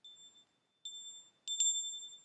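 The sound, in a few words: distant mill bells ringing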